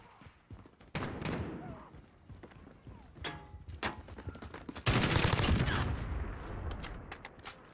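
Video game shooter gunfire crackles in bursts throughout, with a dense, loud volley in the middle and scattered single shots and distant rattling around it, over background game noise.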